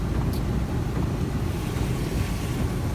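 A vehicle driving through flood water on Topsail Island during Hurricane Florence, a steady loud wash of water and rumble mixed with heavy wind buffeting the microphone, continuous throughout.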